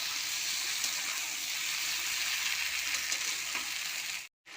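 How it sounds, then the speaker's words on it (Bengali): Spices with vegetables, potato, poppy-seed paste and drumstick stalks sautéing in a pan, giving a steady broadband sizzle with faint stirring throughout, close and fairly loud, cutting off abruptly near the end. "দিয়ে আমি কষবো আমি কিছুক্ষণের জন্য।"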